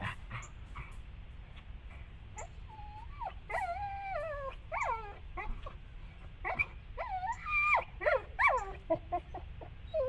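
A puppy named Bear, in training, whimpers and whines in a string of high, wavering cries that grow more frequent and insistent toward the end, heard fairly close in a quiet room.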